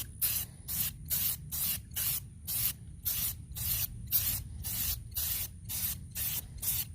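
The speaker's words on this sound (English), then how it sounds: "So you want nice, light, even sprays." Short, even bursts from a spray paint can coat rusty weight plates, with about a dozen rhythmic hisses and brief gaps between them.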